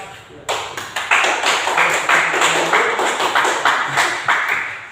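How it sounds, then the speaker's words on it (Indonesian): Students in a classroom workshop break into group applause, a close, loud patter of claps with sharper accented hits that keeps going steadily throughout. "sudah berikan aplaus semua dulu ya"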